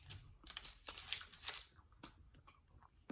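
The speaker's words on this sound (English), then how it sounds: "Get that outside crunch and that chewy center." Close, crisp crunching and chewing of a jumbo chocolate chip cookie, with irregular bites and mouth sounds heard alone with no talking.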